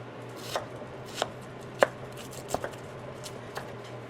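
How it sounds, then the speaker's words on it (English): A knife chops pineapple on a cutting board with a handful of sharp, well-spaced taps. The chops are faint and sit over a low steady hum in a quiet kitchen. "now I'm going to get the other half cut up"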